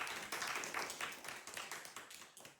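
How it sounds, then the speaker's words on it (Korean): A lecture audience claps to welcome a speaker: a faint, sustained patter of many hands that eases slightly toward the end. "큰 박수로 맞이하겠습니다."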